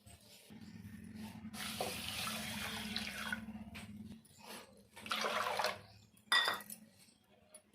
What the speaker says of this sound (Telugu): సాబుదానా వడియాలు పెట్టుకోవడానికి ఇలా మనము 1 కప్పు సాబుదానా తీసుకొని ఒకసారి మంచిగా కడిగేద్దాం దీన్ని